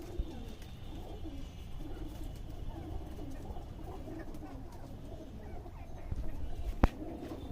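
Pigeons in a loft coo continuously in low, throaty murmurs layered over each other, with a sharp knock near the end and no talking.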